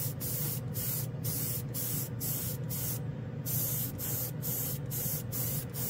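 A spray gun spraying chrome and candy gold paint hisses continuously, with steady airy spraying under a low mechanical hum and brief rhythmic dips.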